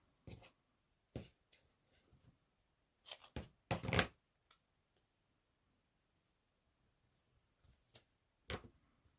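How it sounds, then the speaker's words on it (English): Crisp clicks and quick tearing rasps of double-sided tape being pulled and pressed onto a card for a shaker card, a few close bursts separated by quiet pauses. "I'm going to use some double-sided tape"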